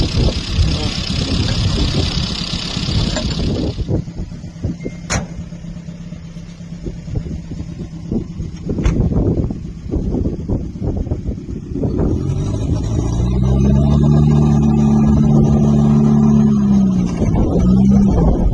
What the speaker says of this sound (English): the exhaust is leaking a bit